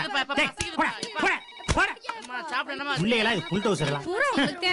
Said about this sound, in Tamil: போன் அடிக்குது கேட்கல.